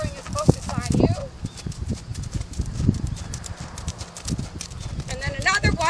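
Horse hooves clip-clop steadily as a horse walks over ground poles laid out in a training maze, with a person talking over the footfalls throughout.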